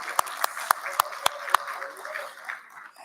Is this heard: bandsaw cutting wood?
no